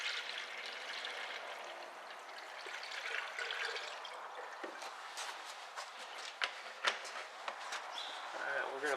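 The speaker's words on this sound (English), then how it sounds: "we're going to pour a little gas in the carb, a little bit in the vent." Gasoline pours and trickles in a thin stream into the carburetor of a 1976 Pontiac Firebird Formula, with small splashes and clicks near the end. A voice is faintly present.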